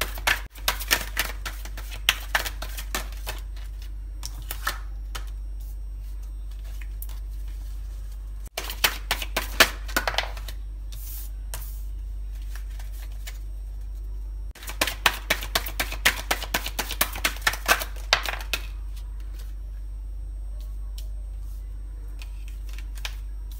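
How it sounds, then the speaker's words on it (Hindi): Tarot cards shuffled by hand in three separate bursts of dense, crisp riffling clicks with quiet pauses between, close and clear over a steady low hum. "so guys let's shuffle 3 cards आपके प्रोफेशनल फ्रंट के लिए फॉर पाइल नंबर 2"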